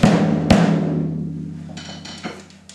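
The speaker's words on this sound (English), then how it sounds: "This is what a loose head sounds like." Two dull snare drum hits with a loose head, the second a sharp crack, each decaying slowly with a loose, rattling wash, followed by a softer tap.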